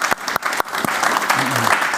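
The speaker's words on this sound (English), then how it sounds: "give a round of applause for Ray Victor" An audience breaks into applause, crisp individual claps at first blending into a dense patter, with a voice faintly audible underneath.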